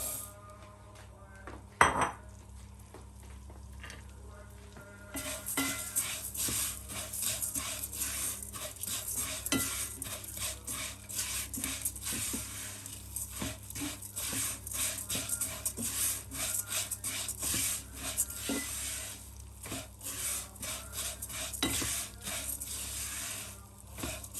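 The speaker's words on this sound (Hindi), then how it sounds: "और इसमें सवैयाँ फ्राई करते हैं।" Vermicelli (seviyan) fried in a little ghee and stirred in a pan over a low flame, a steady soft scraping and rustling with frequent light metal taps, close and continuous.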